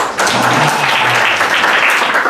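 A church congregation at a Sunday service breaks into loud, close applause. The clapping is brisk and steady, and a faint voice murmurs beneath it early on.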